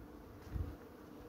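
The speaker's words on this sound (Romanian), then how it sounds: "avem viespi prinse." Wasps buzz around a dead beehive they are raiding for honey: a single faint, brief low hum swells and fades against a quiet outdoor background.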